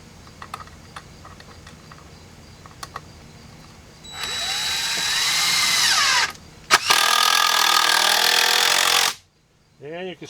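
A power drill drives 3-inch deck screws into wood while greenhouse benches are built, in two long whirring runs with a short pause between, loud and close after a stretch of quiet handling noises.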